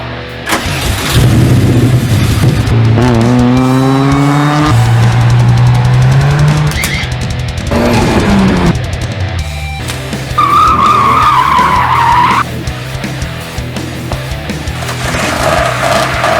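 A 1995 Nissan 300ZX Z32 driving hard: loud engine notes rising and falling through revs, broken by screeching tire skids and a high squeal, all near and with no talk.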